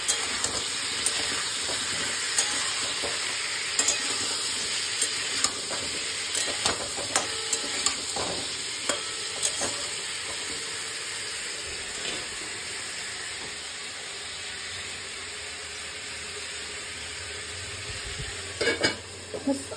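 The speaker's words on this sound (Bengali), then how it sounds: "এবারে সময় শুধু কষানো করে কষিয়ে জল দিয়ে নেড়ে দেবো।" Ground coriander and cumin sautéed and stirred in a pan with water for a morning home-cooked meal, giving a steady close sizzle and hiss with scattered scraping spatula strokes and clinks throughout.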